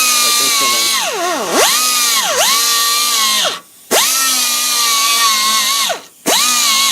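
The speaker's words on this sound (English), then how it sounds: "I have this die angle grinder" A die angle grinder grinding rust off a car body panel down to bare metal, a loud, close, high whine rising and dipping as it loads against the metal, cut off twice by brief pauses before restarting.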